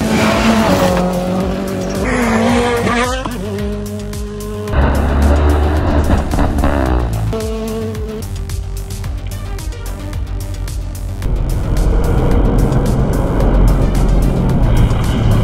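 A new official Toyota rally car roars past at speed, its engine loud and close, revving and shifting through gears as tires squeal, with no talk over it.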